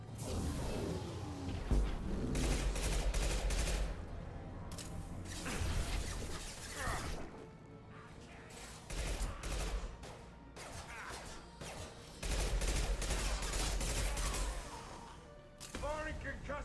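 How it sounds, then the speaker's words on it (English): Concussive shot fired in Mass Effect 2 combat, heard among dense, loud game action with repeated crashes, whooshes and impacts, and voices talking over the fighting. "Firing concussive shot."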